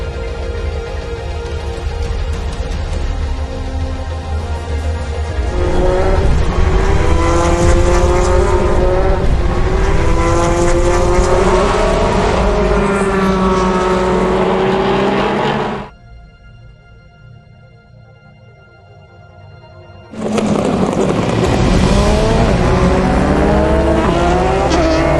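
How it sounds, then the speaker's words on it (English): Race cars drive on a circuit behind a safety car during an endurance race, a loud continuous engine drone with rising and falling pitches as cars pass, briefly dropping away to near quiet before returning. "Very slow car on the approach to turn 9 as well."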